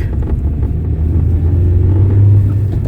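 Cars crawling slowly through city traffic in Dnipro in winter, a steady close low rumble of engines and tyres that swells slightly midway, with no talk.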